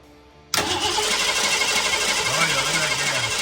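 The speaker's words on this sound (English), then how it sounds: "Wow, I cannot believe it tried to start." A 1970 Ford F-100 bumpside with a Crown Vic engine swap and a newly fitted 600 CFM FST carburetor cranks and catches. A loud, steady engine roar bursts in after half a second and runs continuously and up close.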